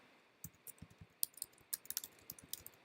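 Quiet, close typing on a computer keyboard, an uneven run of light key clicks with a few sharper taps, no voices.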